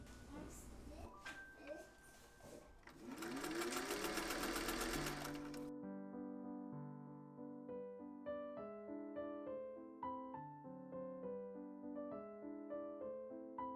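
A sewing machine runs in short bursts, stitching elastic onto a cotton dress hem, its fast mechanical whir loud and close, then gives way to soft instrumental music while a voice speaks briefly under it.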